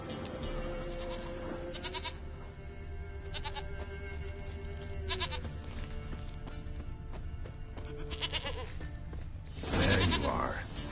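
A goat in The Witcher 3: Wild Hunt lets out several bleats spread across the stretch, with a louder, harsher burst near the end, set against a soft ambient game background with faint hoof clopping.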